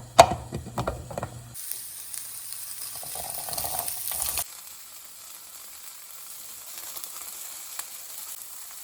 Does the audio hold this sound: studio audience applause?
no